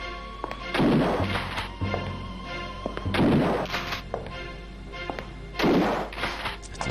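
Gunfire in the video game Alone in the Dark 3: three heavy, thudding shots spaced a couple of seconds apart, with softer knocks between them and a constant low game hum underneath.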